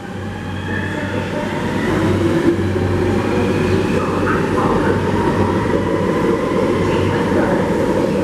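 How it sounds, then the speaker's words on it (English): A Shanghai Metro subway train rumbles along with a loud, steady low hum and rolling noise, heard from inside the carriage the whole time. "That's what a Shanghainese, or a Shanghai Metro subway is like."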